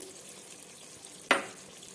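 Food with tomato and peas sizzles in a hot pan, with one sudden loud hiss as it is stirred, then fading back to a quiet frying crackle.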